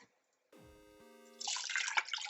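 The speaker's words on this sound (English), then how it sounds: "So we have 6 cups of water that's going in here." A brief tone sounds, then water splashes and pours steadily into a cooking pot, about six cups for chicken noodle soup, close by and fairly quiet.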